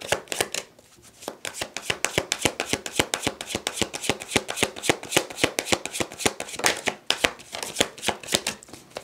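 A deck of tarot cards riffle-shuffled over and over, a dense, rapid run of crisp close flutters and snaps heard alone, with no talk.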